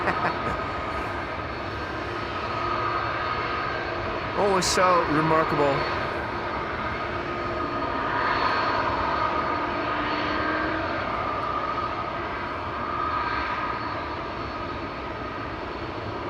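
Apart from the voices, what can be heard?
Airbus A330 jet engines at Amsterdam Schiphol Airport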